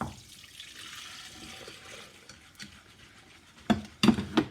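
Custard mixture is poured back into a saucepan, a soft liquid trickle and swish at low level, ending in a few louder knocks of the bowl and utensil against the pan; no talking.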